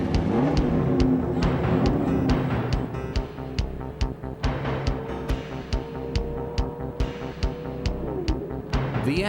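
The Yak Attack race car roars past at high speed with a dense, buzzing engine note that holds steady, then shifts pitch as the car passes and moves away.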